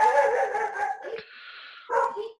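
Several dogs bark in quick, loud bursts close by, followed by a thinner, sustained whine or yip, then another sharp round of barking.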